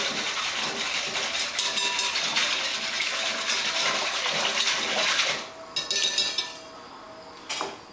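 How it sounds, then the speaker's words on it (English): A whisk clatters briskly around a bowl, mixing active dry yeast and sugar in a steady, close metallic rattle that stops and then returns in a couple of short spurts. "Going to whisk all of that together."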